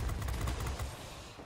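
Rapid cannon and machine-gun bursts from a P-39N-1 Airacobra fighter in World of Warplanes, firing at a ground attacker; a dense, loud rattle of fire that tapers off over the short stretch.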